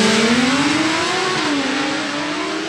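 A drag racing car at a Super Livre class event accelerates hard down the strip, its engine note climbing loud and close through a gear change before easing slightly.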